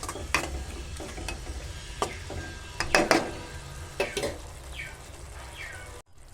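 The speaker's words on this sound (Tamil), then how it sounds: "நல்லா வதக்கிக்கலாம்." Mint rice mixture being sautéed in a pan, with a spoon scraping and stirring in repeated clattering strokes over a soft low sizzle, close and moderately loud.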